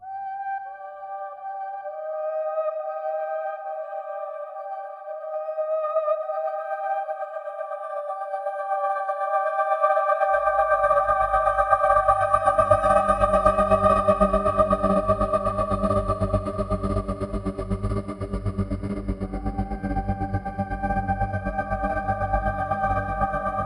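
Soundpaint's Barbary Arc Whole Gate synth program with effects: a sustained, shimmering layered pad with chorus and echo, joined midway by a deep, buzzing low drone that swells and holds steadily.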